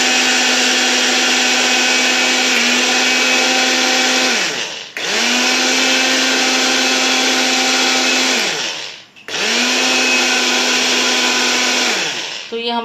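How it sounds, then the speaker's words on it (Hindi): Roasted, cooled moong dal ground in a kitchen mixer grinder: three long, loud, steady motor bursts separated by brief stops, the pitch dropping as the motor winds down each time. "तो देखिए फ्रेंड्स इसको हम ग्राइंड कर लेते हैं अच्छे से।"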